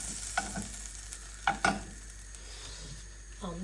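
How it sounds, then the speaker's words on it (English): Butter melting in a pan, giving a soft, faint sizzle with a few sharp utensil clinks against the metal. "Just gonna let this butter melt quickly."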